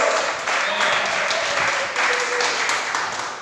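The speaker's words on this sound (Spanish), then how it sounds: "aplauso la gloria de Dios" A church congregation applauds in praise during a Spanish-language sermon, with sustained broadband clapping that holds steady for several seconds at moderate volume.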